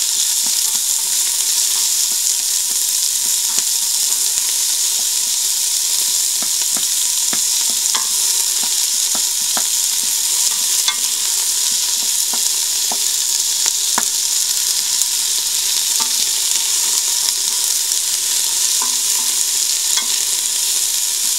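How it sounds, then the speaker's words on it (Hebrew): Diced onion frying in two spoons of hot oil in a very hot pot, a loud unbroken sizzle with scattered pops and spoon scrapes from stirring, close up and without speech. "אני מערבבת ככה משהו כמו 3 דקות עד שהבצל קצת מתרכך."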